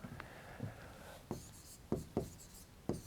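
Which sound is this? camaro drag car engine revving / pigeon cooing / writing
writing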